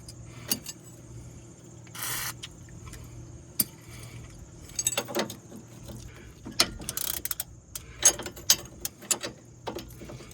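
A ratchet wrench clicks in short bursts on a rusted front stabilizer bar end link of a 2009-2015 Honda Pilot, with metallic clanks and a hiss of penetrating spray, close and alone.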